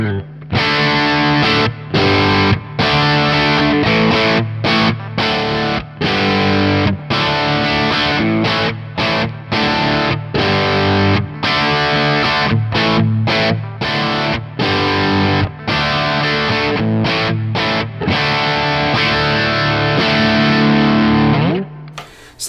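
An electric guitar plays through a Victory VC35 The Copper tube amplifier, switching between high and low modes, giving loud, distorted chords and riffs with rhythmic stops that ring out alone before fading at the end.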